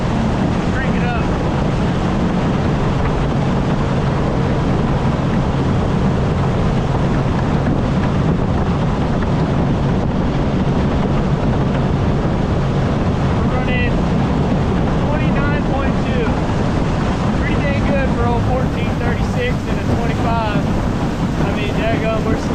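A fishing boat's outboard motor drones steadily at speed across a lake, a loud, close roar with heavy wind buffeting and slapping water, and voices talk faintly over it.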